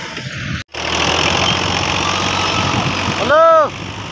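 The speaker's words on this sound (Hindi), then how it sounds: "अभी गाड़ी को निकालते हैं बाहर क्योंकि लोड काफ़ी हो चुका है।" A tractor engine strains while pulling out under a heavy load, giving a steady loud rumble after a brief cut-out, followed near the end by a short rising-and-falling tonal whine.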